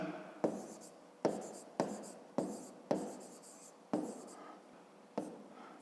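Pen or chalk writing out a math formula for a grade-5 square-area exercise: a run of about seven sharp strokes, each starting with a crisp tap that trails off, close and fairly quiet, with no talk.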